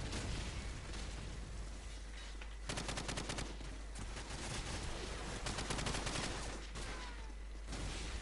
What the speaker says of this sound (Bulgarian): Ето там е тяхната база, мятат гранати.